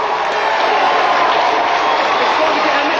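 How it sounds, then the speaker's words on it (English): A studio audience at a video game show applauds and cheers a contestant's win, a dense, steady wash of clapping and crowd noise that stays loud and continuous for the whole stretch. "Let's have a big round of applause for Chris"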